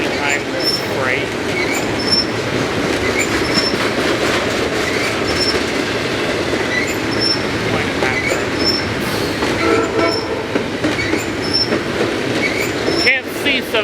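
A freight train rolls past nearby with steady rumble, wheel clatter and occasional squeal, while a passenger Surfliner trails behind it; the horn of the locomotive is faintly present, and no one speaks.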